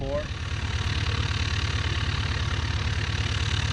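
A RANS S-21 light aircraft's engine runs steadily at close range during taxi, a continuous low throbbing drone that holds level throughout with no pauses.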